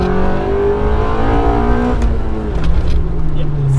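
A Honda Civic EK4 race car engine revs and accelerates up close on a wet track, rising tones climbing then dropping with a gear change, under steady road and tire noise.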